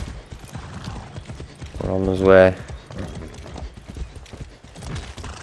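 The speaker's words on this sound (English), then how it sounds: "Just me and my horse, man. I'm taking it for a trot." Horse hooves clip-clop in a trotting rhythm in the video game Far Cry 6, swelling briefly louder near the middle while someone talks over them and other game sounds.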